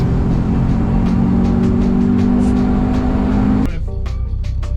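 A 2005 Subaru Forester XT fitted with coilovers drives up and down highway on- and off-ramps, a steady close engine and road drone that drops suddenly near the end, with no talking.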